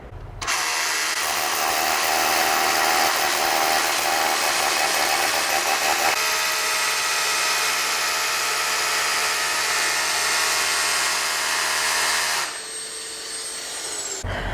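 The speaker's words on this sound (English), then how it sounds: "now I changed the drill bit and we are going to make the final holes" A power drill with a built-in dust vacuum whines steadily and loudly for about twelve seconds while drilling holes for network cabling, its pitch shifting partway through, then cuts out, leaving a quieter hum.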